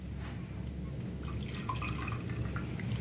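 A drink poured as a radio drama sound effect, a soft trickling of liquid with light drips over a low hum, quiet and close, with no talking.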